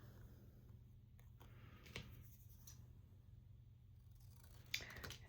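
Scissors trim the edges of glossy Walgreens photo prints, making a few quiet, crisp snips spaced apart against a soft indoor background.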